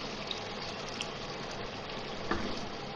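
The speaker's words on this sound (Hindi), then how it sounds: "अब मैं पानी डाल रही हूँ, 1/2 कप पानी डालूंगी इसमें।" Half a cup of water poured into a pan of aloo matar for gravy, a steady close wash of liquid hiss with a brief swell near the end, no voices.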